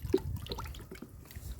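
A stick stirring medicine into a bucket of water makes brief, close sloshing and dripping sounds, soft and irregular.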